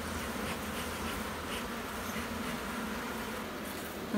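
Steady, dense buzzing of many honeybees swarming close by at an open hive being smoked, a continuous hum that holds level throughout without pauses.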